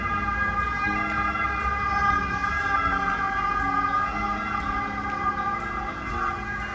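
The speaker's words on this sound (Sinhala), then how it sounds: "ඇම්බියුලන්ස් එකක් යනවා පොඩ්ඩක් ඉන්න." A siren wails steadily and loudly over traffic rumble in Italy, its tone cycling up and down as an ambulance passes close by.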